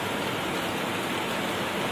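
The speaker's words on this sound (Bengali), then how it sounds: "এই ছিল রোদ, আবার এই বৃষ্টি" Sudden rain starts falling on a sunny day, a steady broadband hiss of dense drops pattering on surfaces, even and continuous throughout with no voices.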